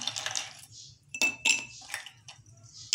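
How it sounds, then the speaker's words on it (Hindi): Ice cubes dropped into a glass for an Indian tamarind and plum sharbat, giving several bright, separate clinks and rattles spaced over a few seconds, close and clear. "आइस क्यूब ऐड करेंगे इसके अंदर"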